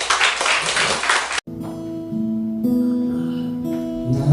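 A church congregation claps together in a dense burst of applause lasting just over a second, then it cuts off abruptly into sustained organ-like music.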